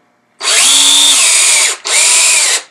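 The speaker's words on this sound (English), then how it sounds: "If you chuck it up in a drill and then come in with a wrench" Power drill spinning threaded rod to thread a lock nut, two loud close bursts of high whining motor noise, the first longer with a slight pitch drop, the second shorter.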